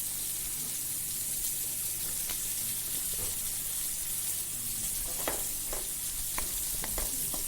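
Prawns sizzle in a pan with fried tomatoes and onions for a prawn curry, a steady loud frying hiss with occasional scraping stir clicks throughout, no voices.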